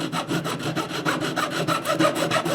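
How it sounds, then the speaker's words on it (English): A metal file rasps back and forth across the wood of a guitar neck in quick, even strokes, a loud rhythmic scraping close up. "I use a metal file to do this because it only takes off what's necessary."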